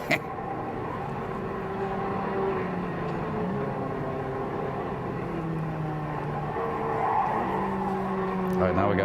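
Racing cars from a Fast and Furious film skid with sustained tire squeal over roaring engines, a continuous loud screech that swells toward the end, with people talking over it.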